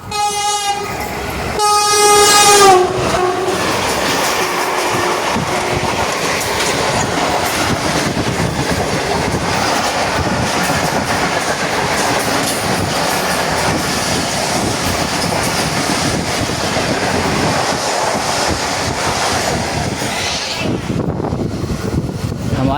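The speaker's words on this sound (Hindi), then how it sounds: "आई थिंक ट्रेन चल रही है" A passenger train on the journey to Lahore opens with a horn blast over the first few seconds, then settles into a steady, loud rolling rumble of wheels and carriages that lasts until the end.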